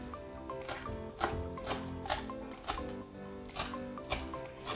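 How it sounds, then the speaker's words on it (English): A knife chops an onion on a cutting board, close and crisp, with a run of steady, evenly spaced cuts, each a sharp thunk, under quiet kitchen background. "Also chop that onion."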